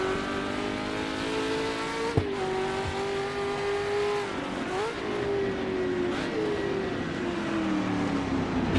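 A 1966 sportscar, David Hobbs' T72, races at Oulton Park with a loud, sustained engine note that climbs and drops through gear changes, with other cars audible close by.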